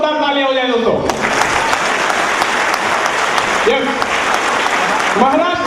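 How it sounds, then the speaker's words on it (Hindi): Loud audience applause fills a hall at a medical gathering in Baroda, a dense sustained wash of many clapping hands, with a voice speaking over the start and again near the end. "तो मैं चाहता हूं कि एक बार जोरदार तालियां हो जाए दोस्तों"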